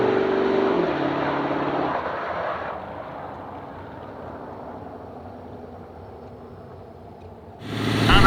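Diesel drag-racing trucks, among them a 1998 Dodge Ram Cummins, roar loudly off the line down the quarter mile. The roar fades into the distance, then another engine surges up close at the end.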